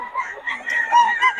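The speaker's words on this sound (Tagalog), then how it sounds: "Marami pang manok sa Boss Jeff." Chickens clucking and calling in a short burst at a busy chicken sale in Bocaue, fairly close, with overlapping bird voices and a crowd-like murmur.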